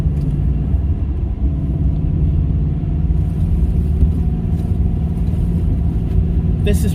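Car engine driving in second gear on a snowy road along Beaver Creek Road in winter, a steady low rumble from inside the cabin with road noise, continuous and fairly loud.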